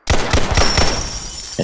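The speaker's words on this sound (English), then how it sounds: "this is the standard LebDev. And it's a good pistol." Pistol shots from a LebDev handgun in a modded Fallout 4, a rapid run of about four loud, close reports in the first second, followed by a lingering tail and a brief weapon-handling sound at the end.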